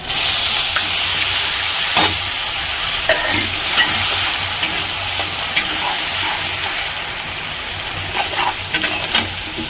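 Chana dal hits hot oil in a frying pan while jeera rice is being made, giving a loud, steady sizzle with scattered sharp clinks and scrapes of stirring throughout, no talking.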